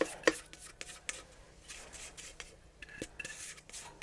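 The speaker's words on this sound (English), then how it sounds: "And I'll scrape the bowl out really good." A spatula scrapes lemon bar mixture from a mixing bowl, giving soft, faint, irregular scraping and rubbing strokes with a few light knocks against the bowl.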